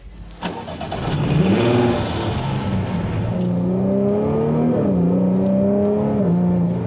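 A Jaguar F-Type's 3-litre V6 starts with a sharp bark, then revs up and settles into a loud, close, rising and falling growl at higher idle, with a few blips of throttle toward the end.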